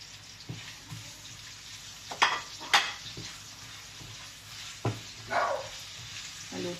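Garlic and onion sauté in a hot pan, a soft steady sizzle broken by several sharp clinks and scrapes of stirring, with no voices.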